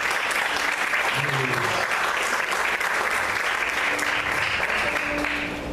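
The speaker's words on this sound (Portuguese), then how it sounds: "Vamos aplaudir ao Senhor com bastante alegria." A church congregation claps joyfully in sustained, dense applause. A faint voice and some tonal background sound sit beneath the loud, continuous clapping.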